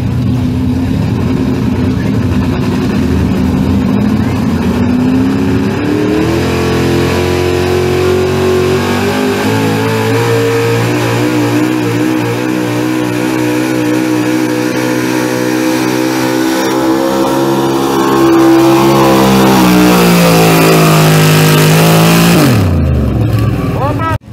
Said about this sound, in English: Let's see what this old truck can do.